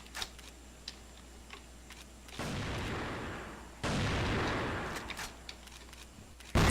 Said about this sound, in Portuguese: joguei granada em mim mesmo